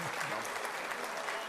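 An audience at a mushaira claps in a dense, steady burst of applause that carries through the whole short stretch.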